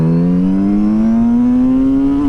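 Kawasaki Z900RS motorcycle engine revving up under throttle, a loud, close, steady tone climbing smoothly in pitch for about two seconds.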